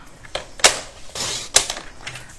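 A paper strip is trimmed for a layered scrapbook card, with a few sharp separate cutting snaps spread over about two seconds, close and fairly loud with no voice.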